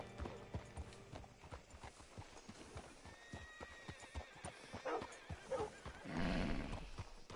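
A horse in Red Dead Redemption 2 in the town of Rhodes, with rhythmic clip-clop hoofbeats close by, then a loud whinny near the end as it is hitched up.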